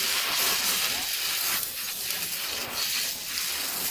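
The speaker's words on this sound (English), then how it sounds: "With some hot oil in a pan, we're going to add our liver meat and fry it well." Liver meat sizzles and spits in hot oil in a pan, a steady bright hiss that swells and eases gently, close and moderately loud with no other sounds.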